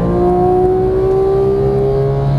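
A Porsche 911 GT3 pulls hard at full throttle out of a corner on a Las Vegas track, a loud continuous engine drone whose pitch rises smoothly across the clip.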